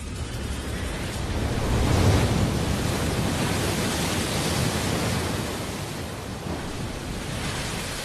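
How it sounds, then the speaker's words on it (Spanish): Ocean waves crash against human-made coastal structures in a loud, continuous roar of surf and spray that swells and eases without pause. "los científicos pueden evaluar con seguridad el impacto de las olas sobre construcciones humanas"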